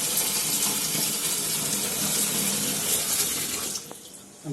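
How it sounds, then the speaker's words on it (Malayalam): Tap water runs steadily into a sink as stingray fish is washed, a constant rushing splash that cuts off near the end, leaving faint clatter. "2-3 വെള്ളത്തിൽ കഴുകുമ്പോൾ അത് ഫുള്ളായിട്ട് വൃത്തിയാക്കും"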